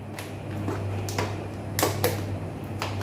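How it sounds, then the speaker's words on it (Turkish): Scissors snip through a soft sheet being cut out for a homemade oval cake-smoothing tool: a few crisp, close cutting strokes spaced irregularly over a steady low hum. "Makasla keseceğim."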